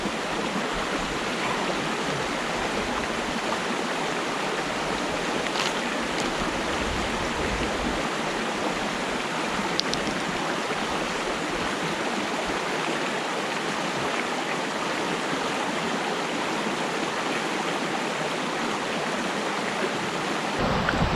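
Steady broadband rush of a stream flowing beside a hiking trail in the Ozark Highlands, constant and fairly loud throughout with no talk.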